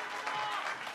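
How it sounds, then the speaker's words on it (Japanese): Applause from a crowd greets a boat racer arriving at a post-race interview after winning a race at a boat racing event, a dense, steady patter of clapping that lasts the whole second without a break. "盛大な拍手でお迎えください。"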